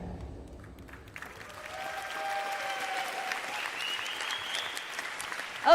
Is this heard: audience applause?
yes